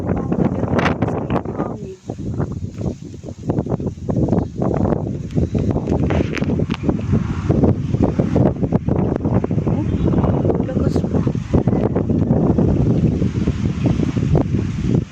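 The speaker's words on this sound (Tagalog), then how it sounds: "malakas pa yung hangin." Strong gusty typhoon wind roars and buffets the microphone continuously, loud and close, with rushing noise throughout.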